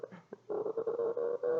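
A human voice imitates a dog that almost barks but holds back, giving a few short low grunts and then a string of muffled, throaty huffs close up.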